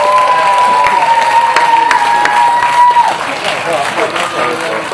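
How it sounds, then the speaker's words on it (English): Crowd applause and cheering at an outdoor chilli eating contest, loud sustained clapping with whoops and voices mixed in, a faint tone fading out partway through. "Okay, big round of applause."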